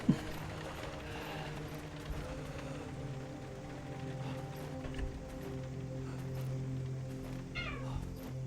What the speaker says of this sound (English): You hear my cats in the background.